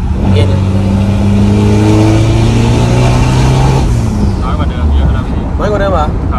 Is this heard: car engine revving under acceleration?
yes